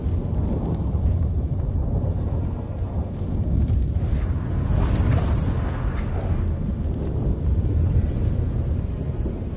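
A thunderstorm in The Witcher 3 game, a loud, steady roar of rolling thunder and heavy rain that swells in the middle and carries on throughout without talk.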